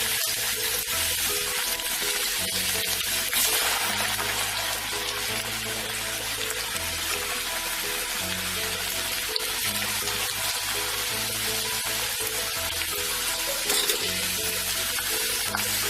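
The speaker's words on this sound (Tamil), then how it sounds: "ஆயில் ஹீட் ஆன உடனே கொஞ்சம் கொஞ்சமா பார்த்து போட்டுக்கோங்க," Pieces of lady's finger (okra) fry in hot oil, giving a constant, dense sizzle that holds steady and close throughout, with no talking.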